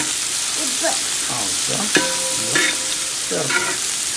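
Onions fry with salt in a pan until wilted, giving a constant close sizzle with occasional stirring clatter, and faint voices can be heard in the background.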